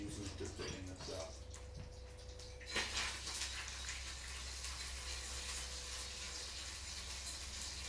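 Butter sizzles hot in a pan as the water cooks off, a steady frying hiss with a brief louder burst partway through and voices talking over it.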